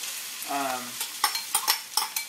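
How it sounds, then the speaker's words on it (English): Scallions are stirred into a hot frying wok for ma po tofu, giving a steady sizzle with a series of sharp scraping strokes of the utensil, close and fairly loud, after a brief voiced sound near the start. "The next piece to go in is the scallions."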